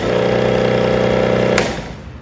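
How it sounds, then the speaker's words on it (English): A Delta 6000 motor runs with a steady, loud mechanical hum and whine, close by, then cuts off abruptly with a click and winds down into quiet. "When you're ready to use the motor, you press this button."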